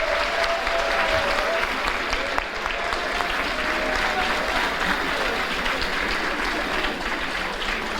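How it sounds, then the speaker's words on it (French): Sustained audience applause at a university institute graduation ceremony, a dense, even wash of clapping from a large crowd in a hall, with faint background voices. "on va saluer Julien Coutan, et on va l'applaudir, qui a fait ces formidables trophées."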